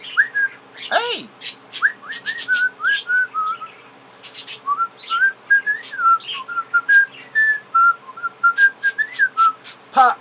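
A person whistles the tune of Pop Goes the Weasel in short, bright phrases near pet budgies. Quick chirps from the birds break in between the whistled notes.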